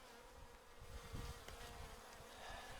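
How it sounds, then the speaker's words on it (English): Honey bees buzz in a faint, continuous drone during a hive cut-out, close but low in level, with no voices. "drop these fuzzy bees in here."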